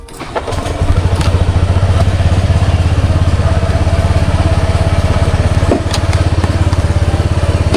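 A motorcycle engine starts up and settles into a loud, steady idle with a fast, chugging pulse, close by and running alone.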